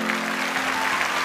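Applause for a singer from the audience of a TV show, a brief dense burst of clapping over a steady background hum.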